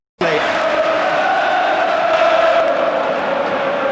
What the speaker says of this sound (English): Applause will echo round Anfield, and it's all for Peter Beardsley